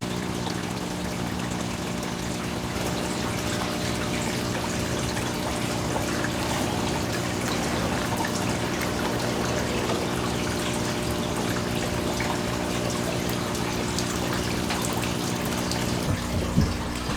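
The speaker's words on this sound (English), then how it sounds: "I got the water running into the pool" A hose pours water into an indoor pool pond, giving a steady, close splashing rush that goes on unbroken with no voices.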